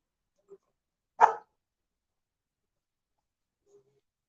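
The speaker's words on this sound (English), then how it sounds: "Right here barking at another dog on the other side of the fence." A dog barks at another dog across a fence: a single loud, sharp bark, preceded and followed by faint small sounds in otherwise near-silence.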